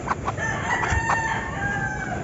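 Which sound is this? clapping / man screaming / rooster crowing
rooster crowing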